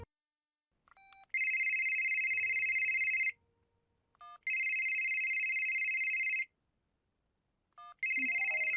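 An electronic phone ringtone sounds in three long repeated bursts, each preceded by short beeps, loud and close, with brief quiet gaps between rings.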